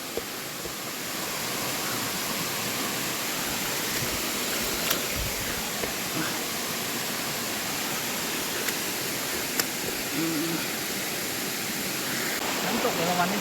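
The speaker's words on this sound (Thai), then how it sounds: "น้ำตกเอราวัณนี่บอกเลยว่าสวยมาก" Erawan waterfall in Thailand pours in a steady, broadband rush of flowing water, continuous and fairly loud throughout with no voices over it.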